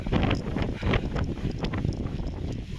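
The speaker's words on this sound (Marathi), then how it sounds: "जोराचा वारा सुटला आहे." Strong monsoon wind roars across the main gate of Shivneri Fort, Junnar, buffeting the microphone with loud, continuous rushing gusts that swell and ease throughout, with no voices.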